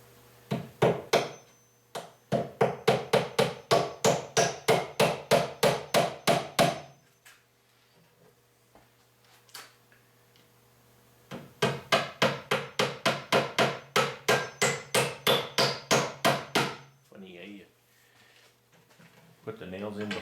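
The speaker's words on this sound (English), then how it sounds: "You miss a nail and hit your finger with that, it hurts a whole lot less than a standard size hammer." A small hammer taps nails into a wooden platform bed in quick, steady bursts of sharp strikes, two long runs separated by a pause, with light sounds between.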